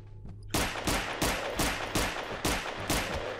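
A rapid series of loud gunshots in Half-Life 2: Episode Two mod Aberration, about eight evenly spaced blasts with short decaying tails, firing in a steady rhythm after a brief quiet start.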